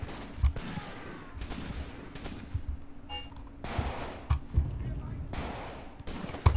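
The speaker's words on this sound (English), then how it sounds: "We are under fire." Gunfire in the video game Graviteam Tactics, a 1942 WWII battle at Shilovo: scattered rifle and machine-gun shots crack at irregular intervals over a rumbling battlefield, with someone talking over parts of it.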